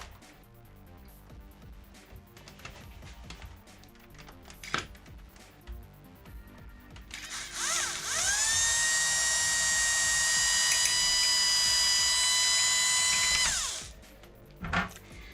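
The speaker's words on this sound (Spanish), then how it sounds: "Cogemos el taladro y lo haremos más o menos aquí." An electric drill bores a hole through the plastic casing of a PS4 Pro, running steadily and loudly for about six seconds after some handling clicks, then winding down.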